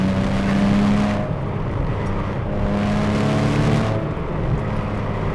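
A Porsche Cayman 987 S Gen 1 from 2005, naturally aspirated, drives with a steady engine drone that rises and falls in pitch through gear changes, loud and close with a continuous rumble and no voices.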